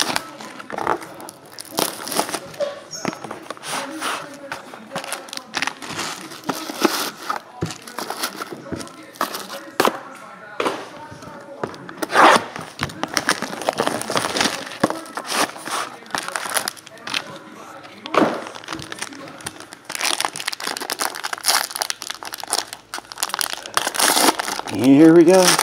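Plastic-sealed basketball trading card box being cut open, with steady crinkling and crackling of wrap and cardboard throughout, broken by sharp tearing bursts, while a person talks over it.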